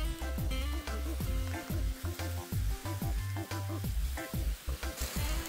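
Meat cooked with beer sizzles steadily over charcoal on a grill, a loud continuous frying crackle with repeated stirring or turning noises, close up and with no talking.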